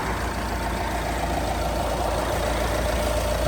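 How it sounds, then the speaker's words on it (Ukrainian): A 2018 Renault Trafic 1.6 diesel van engine idles steadily and close by, a continuous low rumble with a faint knocking texture and no voices. "мотор працює чітко, рівненько"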